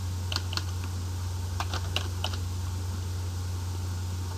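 Several scattered, fairly faint keystrokes clatter on a computer keyboard while Java code is typed, heard over a steady low electrical hum, with no talking.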